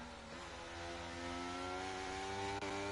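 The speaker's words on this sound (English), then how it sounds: "Oh, listen to that traction kicking in on the Romsey's car." A race car in the PRL Invitational Qatar 2023 accelerates hard as traction bites, its engine note rising steadily in pitch and loudness across the clip. The engine is close and loud, with no voices over it.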